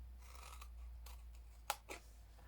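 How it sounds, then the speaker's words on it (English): Scissors cutting along score lines in cardstock for a handmade gift box, a few soft quick snips in a quiet room. "The squares that are at the side, you're going to cut up each score line"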